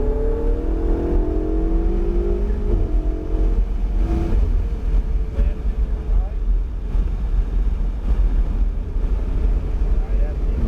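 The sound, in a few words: car accelerating on a driving track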